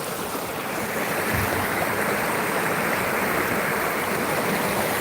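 McMillian Creek flowing outdoors in spring, a steady, full rush of moving water close by that fills the whole stretch evenly with no voices over it.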